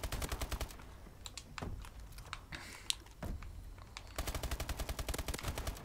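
Rapid submachine gun bursts in Call of Duty: Advanced Warfare multiplayer, dense rattling strings of shots at the start and again near the end, with a quieter stretch of scattered game effects between.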